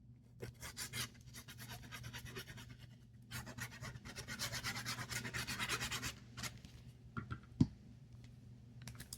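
Paper being rubbed and pressed flat by hand to glue it onto a junk journal page, a close, dry rasping that comes in short strokes and longer continuous passes, with a few light clicks and taps.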